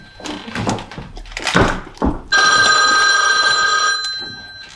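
An old-fashioned telephone bell rings loudly and steadily for about two seconds, after a few knocks and shuffling movements in a room; no talking.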